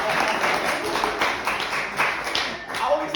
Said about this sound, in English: after the first 2 claps